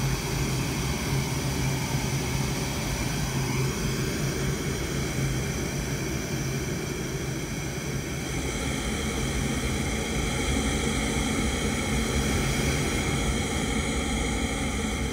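Buchla 296e synthesizer noise sent through convolution reverb roars as a dense, steady, afterburner-like rush that holds loud and unbroken, with no voices.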